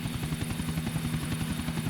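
Helicopter in the video game GTA Vice City, a steady, loud rotor thump pulsing rapidly and evenly over a continuous engine drone, with no talk.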